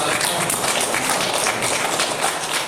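Church congregation at a Sunday morning worship service breaking into sustained applause, a thick, even wash of clapping filling the room without a break.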